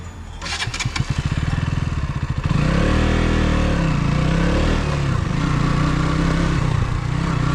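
KTM Duke 200 motorcycle cranking and catching, then revving loudly and pulling away over off-road dirt and sand in a jungle section, the engine note rising and falling steadily up close.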